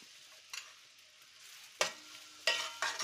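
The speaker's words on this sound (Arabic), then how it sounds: "هنبدا نحمره بس ما توصليش لانه يحمر، يا دوب هيصفر بس كده." Garlic fries in a pan with soft sizzling, broken by a few sharp stirring scrapes and bursts of crackle, close and otherwise quiet.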